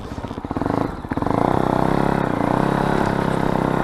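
Fantic Caballero Scrambler 500 motorcycle pulling away, its single-cylinder engine thumping in a few rough pulses before settling into a steady, loud, close throbbing idle-to-cruise drone.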